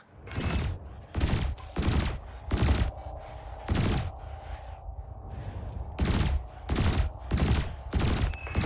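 Spaceship weapons in the Elite Dangerous video game fire at floating canisters during the combat tutorial. Loud, rapid bursts of gunfire repeat in a steady rhythm, briefly pausing mid-sequence before resuming, with no voice over them.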